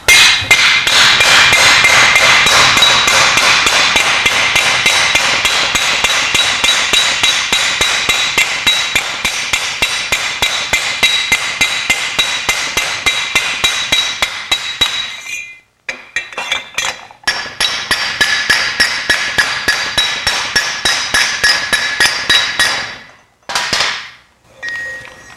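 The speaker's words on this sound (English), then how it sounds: "we'll just start tapping the metal down against the mandrel." Steel exhaust tubing hammered down over a mandrel, a rapid run of loud, ringing metallic taps that keeps going for most of the time, then breaks into shorter bursts with brief pauses.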